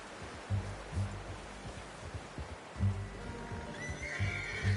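In the Red Dead Redemption 2 video game, a horse gives a clear whinny amid steady clip-clop hoofbeats and soft ambient rustle, the hooves thudding in a repeating rhythm close by.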